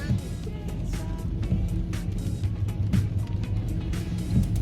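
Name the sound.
inside a car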